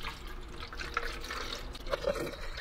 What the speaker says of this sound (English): give this a nice good wash out with warm water